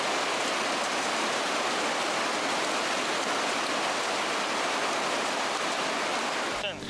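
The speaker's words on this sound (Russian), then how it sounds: "Вот эта белая река с мощными волнами, бурунами летит, сметая на своем пути буквально все." A powerful white mountain river rushes with foaming waves and breakers, a loud, steady broadband roar filling the whole stretch without pause, close by and alone with no talk.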